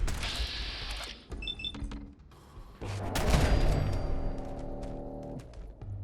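Gunfire in the video game Fallout 4, a few sharp shots and clanks mixed with mechanical sounds and tones, at a moderate level and with little speech.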